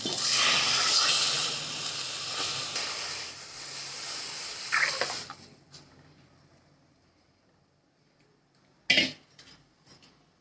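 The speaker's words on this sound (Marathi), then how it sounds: "मला आता आपण त्याच्यामध्ये ताक टाकून घेऊया" Buttermilk pours into a pot of drumstick kadhi in a steady, soft hiss and splash that lasts about five seconds, then trails off into quiet with a couple of brief clinks and rattles.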